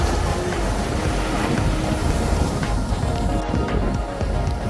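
Surf breaks along Balboa Pier Beach in a continuous, close, broadband rush of churning water, with wind buffeting the microphone throughout.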